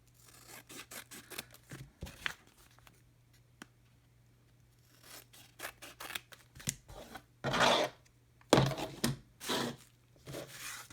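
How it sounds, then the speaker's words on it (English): Scissors snip open sealed trading card packs in a quiet room, with scattered crisp cuts at first and then clusters of louder crinkling, rustling wrapper handling near the end. "let me just trim them all first"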